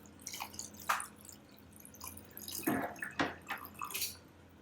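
Coffee poured over a cup of ice, heard as faint, intermittent splashes and drips with soft crackling clinks, close and quiet with no voices.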